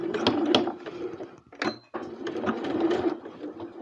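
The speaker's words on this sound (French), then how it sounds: "Et là, on va anticiper quand on va coudre doucement aussi." A sewing machine stitches fabric for a sanitary pad pouch in quick, close mechanical runs, pausing briefly in the middle before stitching again at a steady pace, with nobody talking.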